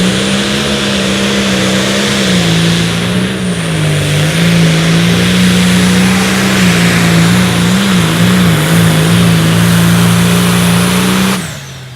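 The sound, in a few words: tractor pull engine revving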